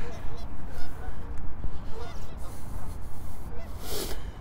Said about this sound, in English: there's the geese sitting on the edge of sitting by the dock of the bay